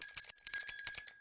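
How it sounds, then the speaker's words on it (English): Bicycle bells on children's bikes in a Peppa Pig cartoon, several bright, high rings repeated rapidly in quick bursts, loud and close with no talking. "Danny, Susie and Rebecca ring their bells."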